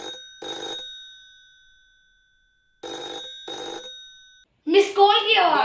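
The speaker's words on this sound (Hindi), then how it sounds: "ये लैंडलाइन फोन है।" Landline telephone ringing in a sound-guessing game, two paired bursts of bright electronic trills separated by a pause, followed by a brief voice.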